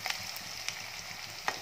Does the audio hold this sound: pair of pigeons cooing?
no